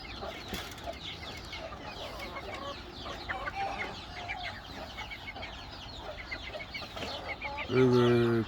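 Chickens and chicks in a garden on a farm give a steady chorus of clucks and peeps. A louder, sharp call stands out near the end.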